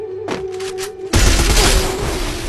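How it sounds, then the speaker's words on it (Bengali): A grenade explodes amid gunfire in a shooting video game, with a few quick shots followed by a sudden loud blast that leaves a dense, roaring rumble. "গ্রেনেড আছে গ্রেনেড ফাটবে কিন্তু"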